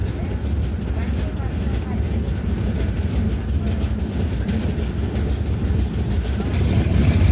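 The Pune–Kanniyakumari Express pulls out of Kappil station, heard from on board as a dense, steady low rumble of rolling coaches with faint rhythmic clatter, building slightly louder near the end.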